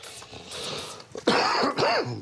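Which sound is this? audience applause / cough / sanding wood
cough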